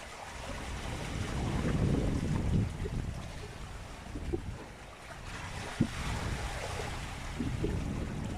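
Wind rushes and waves wash against a rolling sailboat on Lake Champlain, a continuous gusty roar that swells and eases, with a sharp knock partway through.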